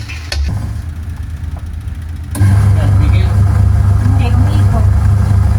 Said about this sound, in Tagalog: At umiikot pa rin yung motor kahit nakatigil.